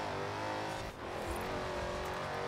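Dodge Charger SRT Lucifer, a car of over 1000 horsepower, accelerating hard in Forza Horizon 4, its loud engine roaring and rising in pitch with a brief dip near the start before pulling on steadily.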